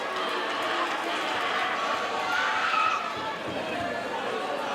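Fight crowd in a bantamweight title bout cheering and roaring to urge a downed fighter back to his feet, a sustained loud wall of crowd noise that swells midway, with commentary over it.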